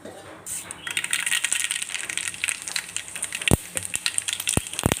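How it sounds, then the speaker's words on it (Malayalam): Mustard seeds pop and splutter in hot oil in a pan while cooking a sprouted cashew curry, a steady crackling sizzle with scattered sharp pops growing more frequent toward the end. "നമുക്ക് എണ്ണ ചൂടാകുമ്പം കടുകിട്ട് കൊടുക്കാം"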